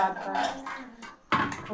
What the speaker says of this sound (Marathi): कुकर ठेवून देते मीटरवर